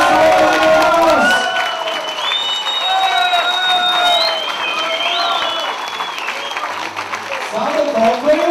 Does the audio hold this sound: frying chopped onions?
no